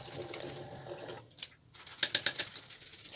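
A kitchen tap runs lightly onto a beauty blender makeup sponge, a close, steady trickling splash that breaks off for a moment, then returns in brighter, spattering bursts.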